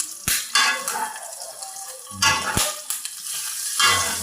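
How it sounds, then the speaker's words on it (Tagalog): Adobong sitaw with string beans and meat frying in a pan, steady sizzle broken by scraping, stirring and clanks of utensil against cookware in two close bursts. "Adobong sitaw. Lutuin natin."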